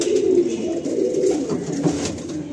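Many pigeons crowd a loft and coo continuously in low, overlapping, throaty murmurs that stay close and steady throughout, with no talking.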